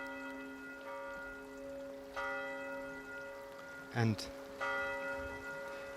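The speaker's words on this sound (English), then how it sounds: "So these bells actually were ringing in one of the frames." Church bells ringing with sustained, resonant tones, fresh strikes renewing the hum every couple of seconds, with a brief louder knock partway through and a faint word spoken.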